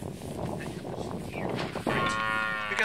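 Cattle lowing on a dairy farm in France's Jura mountains, with a low, muffled moo early on and a clearer, louder, sustained moo in the final second against a busy barnyard background.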